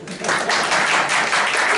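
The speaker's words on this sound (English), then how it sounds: "can I get some applause for that?" Audience applause at a community meeting, a short burst of steady clapping that swells quickly and stays fairly loud, with some voices mixed in.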